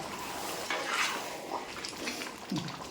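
A pot of chicken curry being stirred, with soft scraping and clinking of a utensil against metal at close range, irregular and fairly quiet, with no talk.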